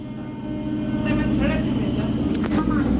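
A local train pulls out of Konnagar station with a rising low rumble and rhythmic wheel clatter, close and growing louder, while voices murmur in the carriage.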